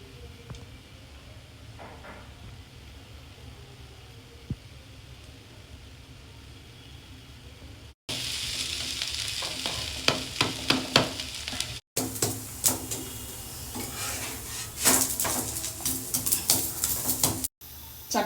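An instant onion uttapam fries in ghee with chutney powder on a pan, giving a steady sizzle. It starts soft and grows louder and crackly after a few abrupt cuts.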